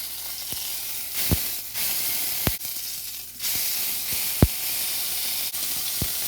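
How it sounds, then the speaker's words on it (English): Beef pot roast sears in a hot pan with a steady sizzling hiss. Several sharp clicks or taps from tongs cut through the sizzle as the meat is turned to brown each side. "What I want to do is just sear all sides now"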